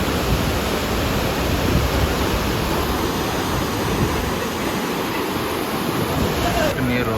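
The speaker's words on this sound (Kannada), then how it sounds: "ಇಲ್ಲಿ ಎಷ್ಟು ಫೋರ್ಸ್ಫುಲಿ ನೀರು ಬರುತ್ತಂತ" Bheema river water rushes forcefully through the dam at Yadagiri, a steady, loud, unbroken roar that holds constant throughout.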